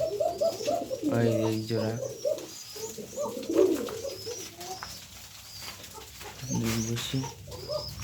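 Pigeons kept indoors during rain coo in repeated bursts, close and clear, with a person speaking briefly between the calls.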